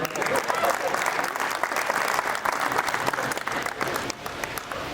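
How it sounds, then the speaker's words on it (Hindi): Thick, continuous applause from the crowd at a kavi sammelan poetry gathering, loud and even for several seconds, easing slightly near the end, with faint voices beneath. "अब क्या एक एक के कान में आके बोलूँगा मेरे लिए ताली बजाओ?"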